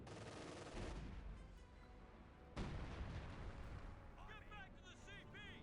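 Two heavy booming cannon blasts in Company of Heroes 2, each a loud broadband burst that rumbles on, with excited speech and electronic chirps afterward.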